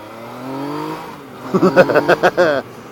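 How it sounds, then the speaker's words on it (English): A 2014 Yamaha MT-09 900cc motorcycle engine idling in sport mode, then revved sharply in a quick series of loud throttle blips, close up. "It's a 2014 Yamaha MT-09."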